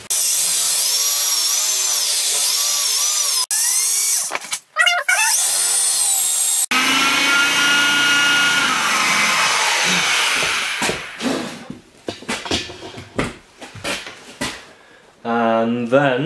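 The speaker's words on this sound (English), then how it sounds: "I'm just gonna drill a hole slightly smaller than a hole for this one." An electric drill with an M4 bit whines through a hole for an M5 eye bolt, loud sustained spin-ups with pitch changes and stops, then shorter bursts and clatter toward the end.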